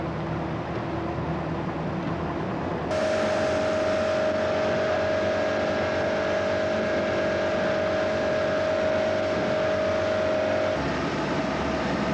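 A boat motor drones steadily without letup on rough water while walleye fishing, joined partway through by a sustained high whine that holds, then drops away near the end.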